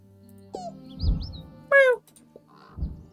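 A person imitates bird sounds with whistles and chirpy vocal calls, a few short separate bursts at close range with quiet gaps between them.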